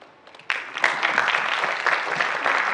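Audience applause at a youth empathy talk event in Gyeongnam, beginning sharply after a faint moment and continuing as a steady, moderately loud patter of many hands clapping.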